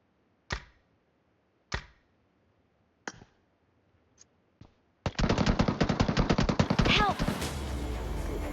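Enemy gunfire in PUBG Mobile Metro Royale, five separate sharp shots spaced about a second apart, then a dense rapid automatic burst lasting several seconds, loud and close.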